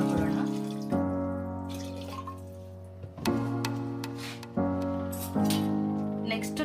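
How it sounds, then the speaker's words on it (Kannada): Water is poured into a pot of dal sambar with onion, tomato, green chilli and garlic, a steady trickle with harmonic ringing tones and a few light clinks, fairly quiet and close. "ಅಗತ್ಯ ತಕ್ಕಷ್ಟು ನೀರನ್ನು ಹಾಕೊಳ್ಳೋಣ"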